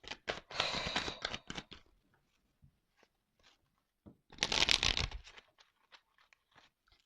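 Tarot cards are shuffled and drawn close up, with two bursts of brisk crisp riffling separated by a quiet stretch of occasional soft taps and slides.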